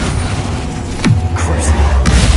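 A Bombarda explosion spell goes off in Hogwarts Legacy, a sudden loud thump that drops into a deep booming rumble lasting about a second, over constant game noise.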